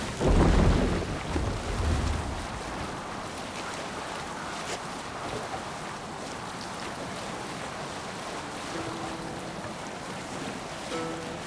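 Wind rushes and waves wash steadily around a sailing boat in Assassin's Creed Valhalla, a broad continuous hiss with a louder surge of water at the start, then a steady moderate roar.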